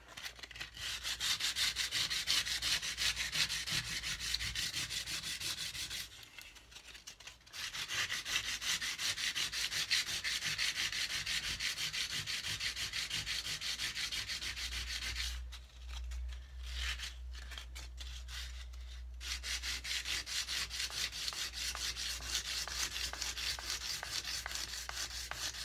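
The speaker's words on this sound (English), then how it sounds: "Or just get a new piece of sandpaper." Sandpaper rubbing steadily along a wooden cigar box guitar neck, a continuous close, loud scratchy hiss in long strokes, broken by two short pauses.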